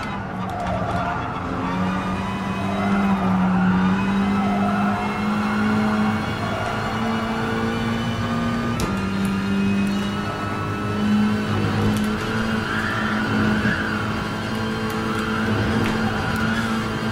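Renault Mégane and Volkswagen Scirocco race cars in Gran Turismo Sport, a steady engine drone with shifting pitch that runs throughout, with occasional tire squeal and faint background noise.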